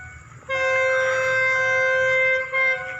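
Express train 638 with its locomotive passes through Chum Saeng, sounding a loud, sustained horn blast for about two seconds that dips briefly before a second burst, over a low rumble of rolling wheels.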